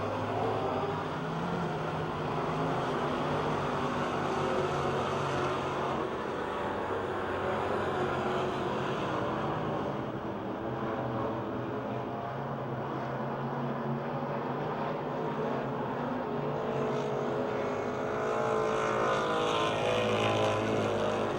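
Race cars run the closing laps at Pennsylvania Motor Speedway near Pittsburgh, a continuous loud roar of engines at a distance that swells and fades slightly as the pack circles, with no speech.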